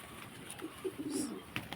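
Pigeons kept for sale coo softly in low, brief murmurs, with a faint chirp or two, quiet and close against a hushed background.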